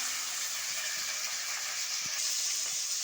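Two chopped onions sizzle in hot oil with curry leaves, tempering a stingray fish curry. A steady, even hiss of frying runs throughout with no pauses and no talking.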